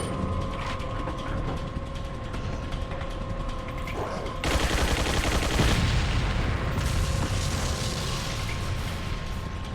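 Turret gunfire in the video game Resident Evil 4, Separate Ways: a continuous mechanical rattle of rapid automatic fire, steady and fairly loud, growing heavier partway through, with a faint tonal hum and no talking.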